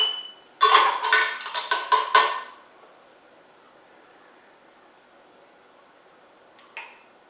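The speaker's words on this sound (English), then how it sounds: "I'm going to scrape it off." A spoon scraping coffee crema and floating grounds off a cupping bowl of Ethiopian coffee: a quick run of bright metallic scrapes and clinks close by, then near silence with one faint final tap.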